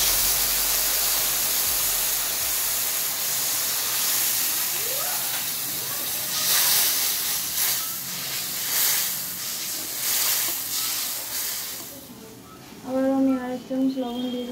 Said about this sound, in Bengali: মশলা ধোয়া জলটা দিয়ে দেবো।